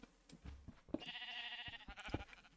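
A sheep bleats in the Minecraft video game, with two or three wavering cries, one long and one shorter, heard close and fairly faint.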